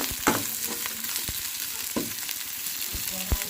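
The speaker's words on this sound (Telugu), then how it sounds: "పచ్చిమిర్చి వేసుకున్నాం అండి ఈ రెండు కూడా వేసుకొని బాగా ఫ్రై చేసి వస్తున్నాం" Green chillies and onions frying in a pan for chicken curry give a soft sizzle, broken by a few sharp clacks and scrapes from a stirring spoon.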